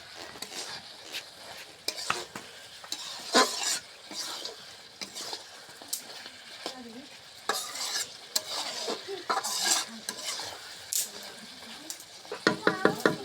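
Goat meat with spices stir-fried in a pan, with repeated scraping and clattering spoon strokes over a sizzle and occasional louder knocks against the pan, no talk.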